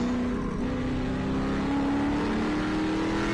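A race car runs rough at Road Atlanta during a WRL endurance race, its engine note a steady droning hum that slowly rises in pitch and stays loud and unbroken throughout.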